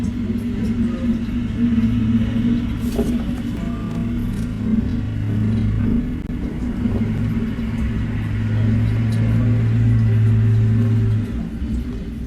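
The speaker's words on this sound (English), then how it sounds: "A snowplow plowing snow back." A snowplow on a road plows snow back onto a driveway, heard as a steady, loud, droning engine rumble with a continuous low hum and scraping wash that persists throughout, with no voices.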